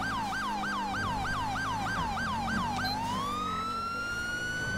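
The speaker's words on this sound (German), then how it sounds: "Ich muss die Sirene doch wieder anmachen." A police car siren in Grand Theft Auto 5 wails in a rapid, repeating yelp cycle that then shifts into a long rising tone, loud and steady throughout with no talking.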